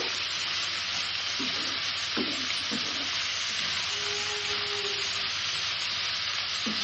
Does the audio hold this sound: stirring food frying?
yes